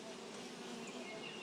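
Honeybees buzz steadily around a hive in a beekeeper's apiary, a faint continuous hum with individual bees flitting past.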